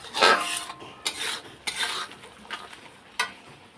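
Ghugni, a pea curry, stirred and sautéed in oil in a pan, giving bursts of scraping spoon strokes over a low sizzle, several distinct strokes in a few seconds, close and alone.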